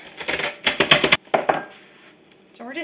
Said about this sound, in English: So we're just gonna put this in a little bowl.